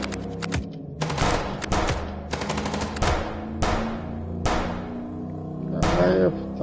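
Rapid machine gun fire in a video game comes in several loud, crackling bursts separated by short pauses, sharp and close, with some vehicle engine hum underneath.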